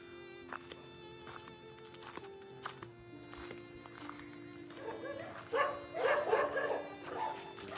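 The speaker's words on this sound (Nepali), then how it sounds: "हाम्रो गाउँमा कुकुरहरू चाहिँ निकै छ।" Village dogs in Kalimpong bark in a lively burst toward the end, several overlapping yaps fairly close, over a steady low hum.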